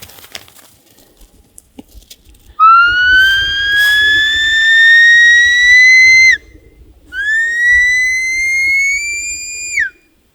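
A herding dog handler's whistle on a South Dakota sheep outing: two long, loud, piercing rising blasts, the first about four seconds, the second shorter, each ending in a quick drop, with faint outdoor rustling between.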